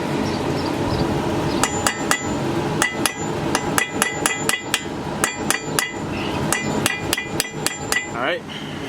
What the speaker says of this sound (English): Then I got this right here, a center punch.